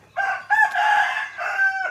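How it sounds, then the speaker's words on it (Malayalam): Rooster crowing in a rural Thai village near Pai, one loud, close crow of several drawn-out segments, standing clearly alone over a quiet background. "ഇവിടുന്ന് കേട്ടോ കോഴി കൂവുന്നേക്കുന്നത് കേട്ടോ"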